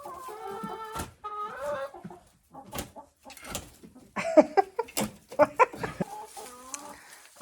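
Chickens cluck and squawk close by in a greenhouse in irregular bursts, growing busier toward the end, with several birds calling over one another.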